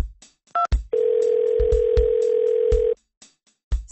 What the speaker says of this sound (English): Making the phone call.